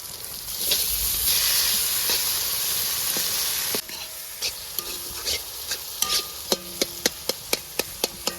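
Tomatoes and onions sauté in a pan for a Kerala-style beef curry, a steady loud sizzle with stirring that cuts off midway, followed by a run of sharp, evenly spaced spoon taps against the pan.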